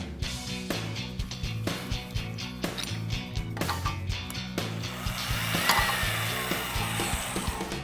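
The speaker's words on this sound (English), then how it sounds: "using our electric, non-impacting torque wrench" An electric, non-impacting torque wrench set to 450 foot-pounds tightens a bolt with a close, loud motor whir that pulses rhythmically and builds steadily, with no talking over it.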